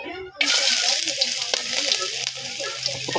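Ginger hits hot oil in a pan for a Filipino chicken dish with chayote, bursting into a loud, steady sizzle that continues with light stirring throughout.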